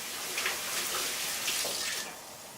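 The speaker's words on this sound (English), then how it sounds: "Let me just wash my hands." Tap water runs steadily into a sink while hands are washed in a kitchen, a constant close hiss of flowing water with a few faint splashes, tapering off near the end.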